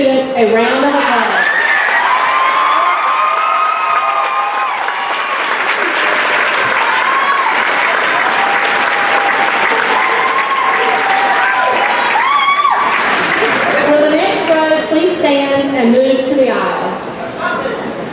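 A large audience at a high school graduation claps loudly and steadily for the students, with scattered cheers and voices mixed into the long, continuous applause.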